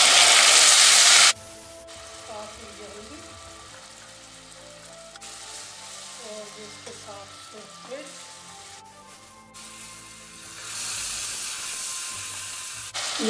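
Tomatoes hit a hot pan of reddened garlic-ginger paste for dhaba-style mash ki daal, with a loud burst of hissing that settles into a steady, softer sizzle and a faint stirring scrape.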